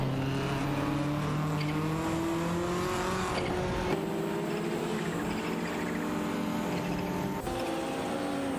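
Race cars in a video game, a Ford Sierra RS 500 and a Nissan Skyline GT-R R32, run on a track with steady loud engine drones whose pitch climbs through gear changes, plus faint tire squeal.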